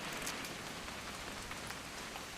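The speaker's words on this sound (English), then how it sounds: "It's gonna rain the whole weekend, isn't it?" Steady, dense rain falls at dawn during a hunting trip in the video game What Remains of Edith Finch, a continuous even hiss of drops hitting surfaces with no voices.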